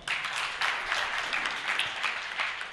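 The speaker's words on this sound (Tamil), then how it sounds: "உங்களுடைய அபிமான கைத்தட்டலோடு கோவை சத்யா அவர்கள் வருகிறார" Audience applause at a Tamil debate show (pattimandram), a dense, steady wash of many hands clapping that holds at even loudness throughout, with no talk over it.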